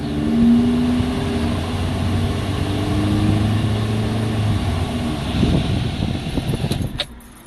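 A stock car engine idles loudly, then is revved, the steady low rumble rising into a rougher, louder surge near the end during a decibel test.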